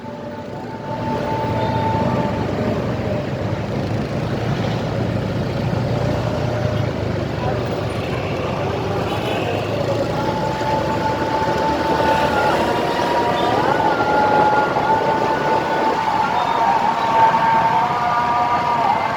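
Busy city street traffic in Palembang, cars and motorcycles passing in a continuous rumbling wash heard from a moving motorbike, with occasional horn-like tones and people talking over it.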